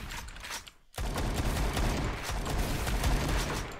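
Sniper gunfire in the 2D battle royale game Suroi: after a brief near-silent gap, a dense, loud barrage of shots and impacts fills the rest of the moment without letting up.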